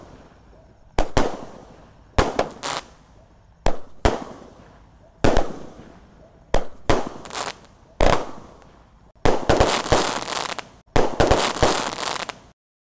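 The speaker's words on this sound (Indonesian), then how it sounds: "langsung saja kita nyalakan Basoka Roman candle terbesar spesial lebaran guys" A large homemade Roman candle firework set off for Lebaran fires shot after shot, sharp loud bangs and crackling bursts at irregular intervals of about a second, growing denser toward the end.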